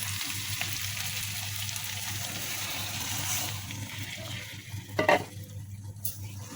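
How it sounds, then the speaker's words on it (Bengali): Prawn malaikari cooking in a pan as coconut milk is poured in, giving a steady close sizzle and bubbling with light stirring, plus a brief louder splash and clatter near the end; no voices. "এখন আমি মাছটা সিদ্ধ হওয়ার জন্য নারিকেলের বাকি যে দুধগুলো আছে সেই দুধটা ঢেলে দেবো"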